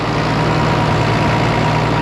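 A low, steady engine idles continuously with a constant deep hum and rumble, fairly close and unchanging throughout.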